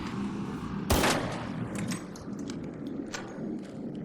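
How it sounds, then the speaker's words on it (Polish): A sharp burst of gunfire in a video game, shooting down a burning rocket enemy, cuts through a dense, noisy background, followed by scattered fainter shots and rumbling. "Jeszcze tylko kilka strzałów."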